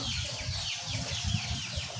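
Native chickens cluck and squawk continuously in a busy coop, with scattered chirps and some wing-flapping noise, fairly close and steady.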